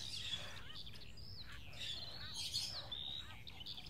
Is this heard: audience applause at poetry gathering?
no